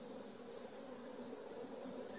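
Dense, continuous buzzing of many honeybees in an open hive, a faint, even drone with no pauses or voices.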